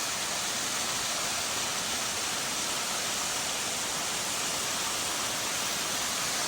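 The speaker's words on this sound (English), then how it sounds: "This is about midway up on the waterfall too." A waterfall on a tributary of the Davidson along Daniel Ridge Trail in Pisgah, North Carolina, roars as a steady, dense rush of falling water, loud and close, with no other sounds.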